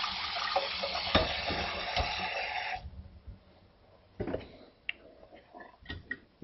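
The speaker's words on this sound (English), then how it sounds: "we'll give it a nice rinse to get any excess residual starch off" Cooked farro being rinsed under running tap water in a kitchen, a steady close splashing stream for a few seconds, then the water stops and soft clatter and scraping of grains and a strainer follow.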